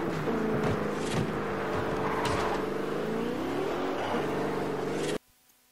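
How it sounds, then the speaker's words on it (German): A car engine revs hard in the racing game Forza Horizon, a loud, steady, rising and falling drone that holds for about five seconds before cutting off abruptly. "Wahnsinn, wie das Auto abgeht."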